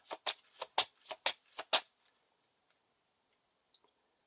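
A deck of game cards for a fantasy card game is shuffled in a quick run of eight crisp riffling bursts, close and loud, followed by near silence with a faint click near the end.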